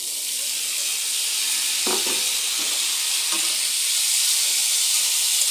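Chickpeas frying in a pan with onion, ginger and green chili give a loud, constant close sizzle and hiss, broken by a few light knocks of stirring, with no one speaking.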